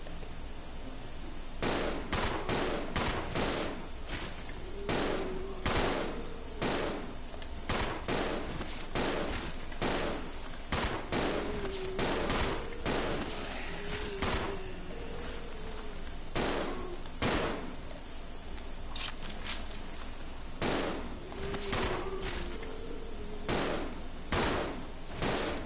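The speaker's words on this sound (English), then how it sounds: "she was about to start using the stinking shotgun" Repeated shotgun blasts in Resident Evil 0, loud sharp shots at an irregular pace over a steady background din.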